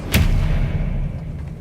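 Expelliarmus spell cast in the video game Hogwarts Legacy, a single heavy thudding boom with a sharp attack, followed by a low rumbling tail that fades.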